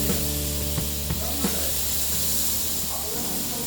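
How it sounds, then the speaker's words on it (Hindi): A tablespoon of butter melts and sizzles in a hot pan on a gas stove for street-style misal pav, a soft continuous hiss with a few small pops under a steady low hum. "पैन में डालेंगे ये 1 टेबलस्पून बटर।"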